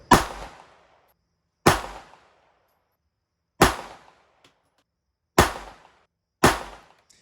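A Sig P320 pistol with the small X-grip frame fires at a shooting range: five sharp, loud single shots at uneven intervals, each with a short decaying echo and silence between.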